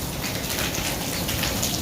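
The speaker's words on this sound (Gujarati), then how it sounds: "જોઈ લો મિત્રો વરસાદ થઈ ગયો છે ચાલુ પાછો" Steady rain from Cyclone Biparjoy pouring down, a dense, even hiss of drops striking surfaces all around, with no voices.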